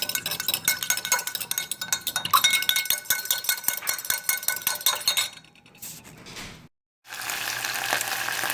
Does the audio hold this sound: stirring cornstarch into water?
yes